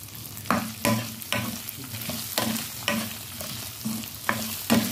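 Potatoes fry in a pan for a potato and eggplant sabzi, with a steady sizzle broken by regular scraping stirs about every half second to second, close and fairly quiet.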